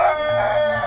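Chickens in a home garden squabble over pecking order, a short burst of agitated clucking and crowing-like calls, fairly close and loud, with no talk over it.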